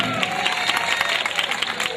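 An audience claps at a Mappila song stage show, a brief dense patter of many hands at moderate loudness with no voices over it.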